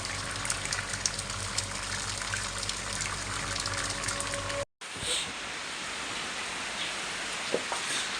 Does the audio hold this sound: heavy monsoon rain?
yes